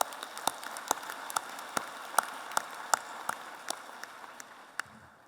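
An audience at the Global Peace Convention in Manila gives a sparse round of applause: scattered, distinct individual claps at an uneven rhythm rather than a full ovation, moderately close.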